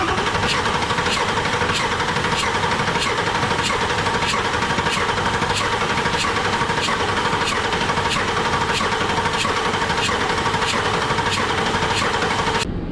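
A service truck engine cranks on its starter after an injector replacement, giving a steady loud churning drone with an even, rapid pulsing rhythm that cuts off abruptly at the end.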